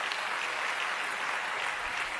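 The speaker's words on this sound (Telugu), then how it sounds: "ఒకసారి చప్పట్లు కొట్టండి అలాంటి విషయాలు విన్నప్పుడు." A church congregation seated outdoors claps together, a steady dense wash of applause filling the whole moment with no voices on top.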